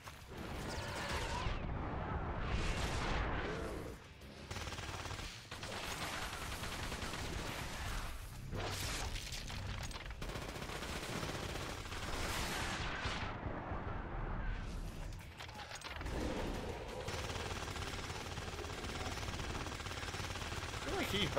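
Gunfire in The Darkness video game on Xbox: loud, sustained bursts of shots and heavy blasts in repeated waves with brief lulls, dense and close throughout.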